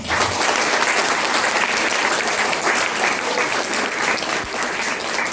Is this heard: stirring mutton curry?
no